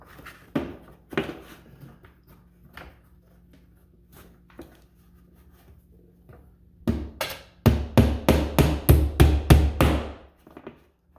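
A hammer drives a larger nail through drywall to mount a water pipe clip: a few scattered taps first, then a rapid run of about eight loud, sharp, close blows.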